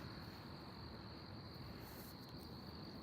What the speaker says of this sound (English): The crickets are out here.